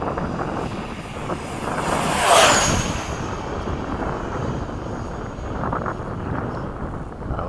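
An F-5 jet fighter roars past in a low downwind pass at a demonstration flight, its broad engine noise swelling to a peak and then trailing off into a steady, wind-buffeted rumble.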